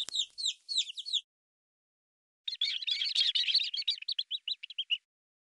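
Cartoon chicks in the Peppa Pig Happy Mrs Chicken game give two bursts of high, rapid cheeping, a short run of chirps and then a longer chattering flurry ending in evenly spaced peeps, with silence between and no talk.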